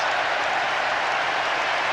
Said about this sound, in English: Now the crowd roaring.